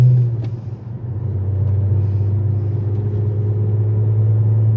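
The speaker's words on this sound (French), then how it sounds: "Ah, le bruit du V6 avec un petit échappement," A VW Golf 4 V6 24-valve 4motion idles with a small exhaust, giving a steady, smooth low purr that holds close and even throughout, with a slight dip early before settling.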